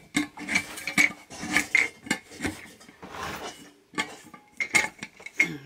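A lid being screwed onto a container, a series of close clicking, scraping twists in irregular bursts separated by short pauses, with no talking.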